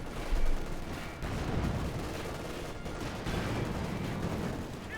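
Dense battlefield gunfire and explosive bazooka and anti-tank rifle grenade blasts in Company of Heroes 2, a steady loud barrage of overlapping shots and booms, with no voices.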